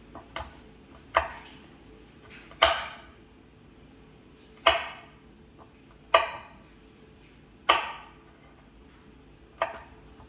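Knife chopping garlic into small pieces on a board, seven sharp separate strikes spaced irregularly about a second apart, close and clear over a low steady background hum, no voices.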